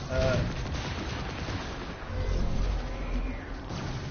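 Turrets firing in the Marvel's Avengers video game, a steady stream of rapid, rattling gunfire running through the whole stretch under dense game effects and some speech.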